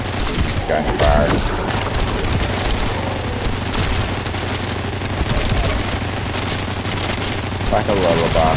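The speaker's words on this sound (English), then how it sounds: "sounds of gunfire." Rapid automatic gunfire rattles on without pause in sci-fi shooter gameplay from The First Descendant, loud and dense with occasional booms, and a voice speaks underneath.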